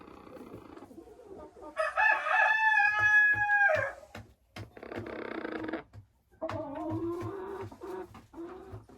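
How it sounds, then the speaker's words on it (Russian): Hens and a rooster in a henhouse in December: a loud, sustained crow rises near the microphone, followed by bursts of clucking and squawking, with faint, irregular pecking thumps underneath. "Идемте к старым курочкам."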